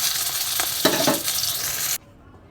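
Rohu fish frying in hot oil in a pan, a bright steady sizzle with a couple of clinks of a utensil stirring, cut off abruptly as the cooking noise stops.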